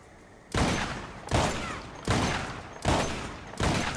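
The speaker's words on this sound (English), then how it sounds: "Now let's look at the semi-automatic shotgun." Semi-automatic shotgun firing in the video game Red Dead Online: five loud, evenly spaced blasts at a quick rate, each with a sharp attack and short decaying tail, with no talking.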